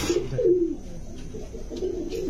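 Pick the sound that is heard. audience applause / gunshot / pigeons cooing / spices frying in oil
pigeons cooing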